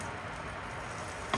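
Eggs cooking in a pan over medium heat give a steady, soft sizzle and fry throughout, with one brief sharper crackle near the end.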